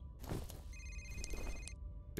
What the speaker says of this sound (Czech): Jo, já bych to zvedl, ale skama zvoní telefon.